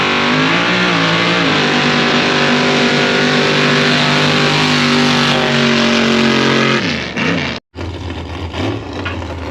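A 1979 Ford F250 mud-racing truck with a 600-cubic-inch big block Ford V8 running on methanol roars at sustained high revs, very loud and close, then drops off sharply with a brief cut before rumbling on.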